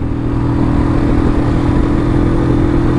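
Superlight 125 motorcycle engine running steadily in fourth gear after a downshift on an intercity road, a loud continuous drone with steady engine hum and road noise throughout.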